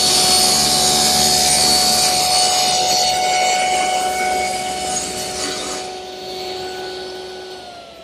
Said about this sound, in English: What I'll do is trim one end of my plywood, check that it's square, and then cut it to length.